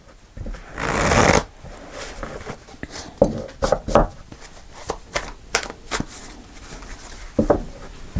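Tarot cards are shuffled by hand at close range: one dense riffling burst, then a string of crisp, separate slaps and taps as the deck is cut and handled, with no voices.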